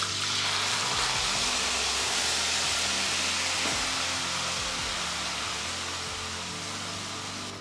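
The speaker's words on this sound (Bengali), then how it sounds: "জিরের সুগন্ধ বেরোলে দিয়ে দিন আগে থেকে গুলে রাখা আদা বাটা" Ginger paste sizzling in hot oil with cumin seeds and bay leaves for a vegetarian potol curry, a loud, dense frying hiss with a few scattered clinks, easing slightly toward the end with no talk.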